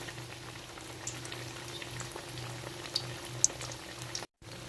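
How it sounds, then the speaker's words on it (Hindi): Fish frying in oil in a kadai, a soft continuous bubbling sizzle with scattered pops and a low steady hum underneath, briefly cutting out near the end. "ये देखिए माशाल्लाह हमारी फिश फ्राई हो रही है।"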